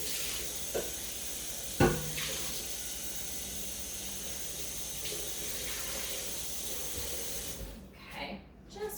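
Tap water runs steadily with a soft hiss while a mixing bowl is rinsed out, faint and close, with a brief clunk early on and gurgling splashes as the flow stops near the end.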